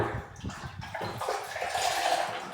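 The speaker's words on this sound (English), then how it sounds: "We've already washed our towel and we're just giving it a final rinse." Water running and splashing while a towel gets a final rinse in clean harvested rainwater, a close, rushing gush with sloshing and gurgling that builds slightly toward the end.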